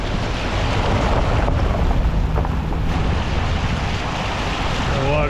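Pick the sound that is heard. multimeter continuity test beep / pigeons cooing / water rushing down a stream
water rushing down a stream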